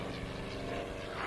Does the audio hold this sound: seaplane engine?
yes